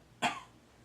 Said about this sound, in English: when I tell you to, I want you to cough.